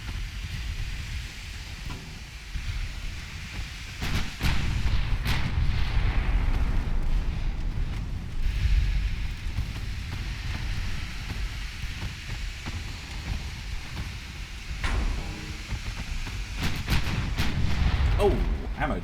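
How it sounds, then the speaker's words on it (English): Ammunition detonation aboard a warship in the naval strategy game Ultimate Admiral Dreadnoughts, a deep rumbling blast with booming low-end swells and a sustained roar, followed by further muffled thuds. "ammo detonation"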